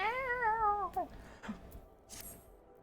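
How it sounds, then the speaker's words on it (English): A cat in a video game gives one drawn-out, wavering meow that rises and then bends downward, clear and fairly close, followed by faint shuffling sounds in a quiet setting. "That was a spooky cat."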